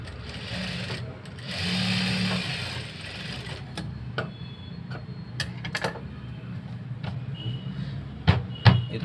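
Sewing machine stitching piping onto the lower edge of a blouse, a brief burst of fast mechanical whirring near the start, then quieter pauses with scattered clicks and handling knocks.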